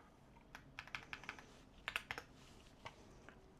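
Bursts of quick keystrokes on a computer keyboard, soft and close, clustered in short irregular runs with brief pauses between them.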